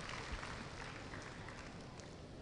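An audience at an annual day celebration claps in a dense, steady wash of applause that holds evenly for the whole stretch, heard from a distance.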